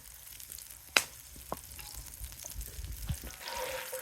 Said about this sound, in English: now what I'm going to do is go in with a knob of butter and also our onions